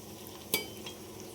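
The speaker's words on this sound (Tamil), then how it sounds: "நல்லா வதங்கட்டும் வெங்காயம்." Onions sautéing in a kadai give a steady low frying hiss, broken by one sharp metallic clank of a stirring spoon midway.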